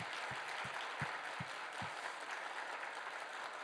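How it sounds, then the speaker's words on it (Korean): A church congregation claps in encouragement for its elders during an evening service, steady dense applause from many hands filling the hall, with a few stronger low thumps near the start, fairly quiet overall. "우리 귀한 장로님들을 위해서요 한번 격려하면서 박수하면 좋겠습니다"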